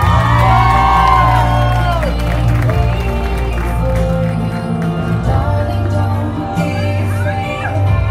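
A quinceañera crowd cheers and applauds loudly for a named guest, with whoops and shouts over music; the noise stays dense and close throughout.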